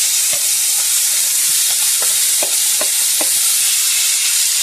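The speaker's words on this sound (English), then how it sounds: "you want to add your beef to your skillet" Sliced beef sautéing in a skillet gives a steady, loud sizzle with a few sharp clicks and scrapes of tongs or a utensil against the pan, close up, no voices.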